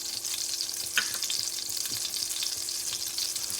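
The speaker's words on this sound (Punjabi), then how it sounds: "ਹੁਣ ਆਪਾਂ ਇਹਦੇ ਵਿੱਚ ਥੋੜਾ ਜੀਰਾ ਪਾਵਾਂਗੇ ਇਹਨੂੰ ਭੁੰਨਾਂਗੇ" Cumin seeds roast in hot ghee, a tempering for langar-style dal, with a steady broadband sizzle and crackle throughout, a sharp spoon-on-pan clink near the start and faint stirring.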